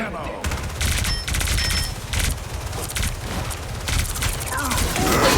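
Rapid automatic gunfire rattles in bursts during a Marvel Rivals match, loud and dense with short gaps, while a player's voice talks over parts of it.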